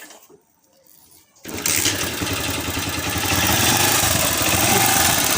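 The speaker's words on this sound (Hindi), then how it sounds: "तो हम इस बाइक को अब स्टार्ट करते हैं और देखते हैं कि इंजन की आवाज़ कैसी है।" A second-hand motorcycle engine catches after a quiet moment and settles into a loud, steady idle with a rapid mechanical chatter, close up.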